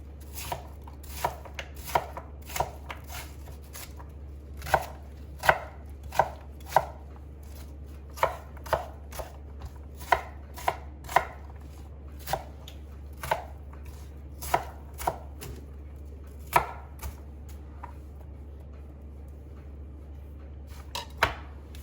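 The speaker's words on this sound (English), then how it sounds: "Just kind of getting it somewhat diced up here" Bacon diced with a knife on a cutting board, a long run of crisp close chops in irregular bursts over a steady low hum.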